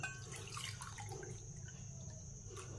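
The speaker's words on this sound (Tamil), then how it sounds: "இந்த கப்பில் தான் 1 கப்பு மாவுக்கு நம்ம 3 கப்பு தண்ணி ஊற்றிக்கிறணும்" Water pouring into a cup of flour in a kitchen gives a soft, faint trickle with small splashy bits and drips. It runs for a few seconds at low volume, close by and without talk.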